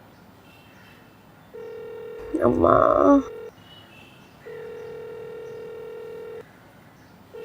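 A phone call's ringback tone repeats unanswered: two long steady ringing bursts separated by a pause, with a voice briefly speaking over the first ring.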